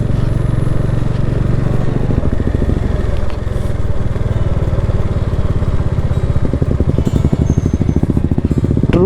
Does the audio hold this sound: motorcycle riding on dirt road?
yes